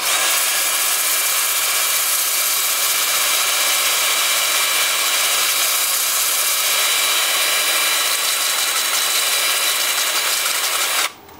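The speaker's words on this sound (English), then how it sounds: "And then with the lathe spinning forward at about 350." A wood lathe spinning forward at about 350 rpm while turning a cork-like piece gives a steady, loud whirring hiss with a sanding tone, running unbroken for about eleven seconds before cutting off abruptly.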